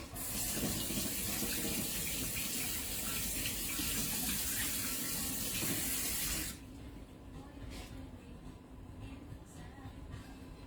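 Tap water runs loudly and steadily into a sink while an eggplant is washed under it, then the flow stops abruptly, leaving faint room noise with small clinks.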